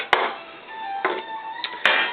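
Plastic end caps unclipping from a Kenmore Series 90 washing machine: a few sharp plastic clicks and snaps, close and distinct, spaced irregularly over about two seconds.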